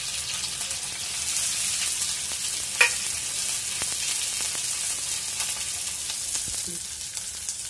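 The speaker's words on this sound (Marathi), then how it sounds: "मिरची थोडी फ्राय झाली की आपण त्याच्यात कांदा टाकायचा" Green chili and onion sizzle loudly in a pan while being cooked, a steady close-up frying hiss with one sharp clink partway through and a few soft stirring scrapes.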